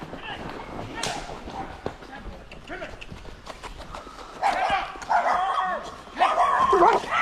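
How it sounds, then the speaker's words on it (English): Loose dogs bark and yip in short, sharp, close bursts that grow louder toward the end, while a person speaks over part of the barking. "The loose dogs."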